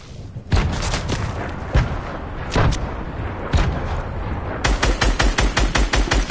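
Rapid video-game gunfire aimed at a tree: several separate loud shots spaced a second apart, then a fast rhythmic burst of automatic fire close by at the end, with no talking.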